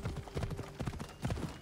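Horse hooves trot in Assassin's Creed Odyssey, a quick steady clip-clop of several beats in bursts over a low game ambience, fairly close.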